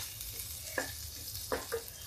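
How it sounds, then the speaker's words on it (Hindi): Fenugreek seeds crackling in hot oil, a soft sizzle punctuated by three distinct quick pops spaced under a second apart, close and fairly faint, with no voices. "ये देखिए मेथी तड़क गई है।"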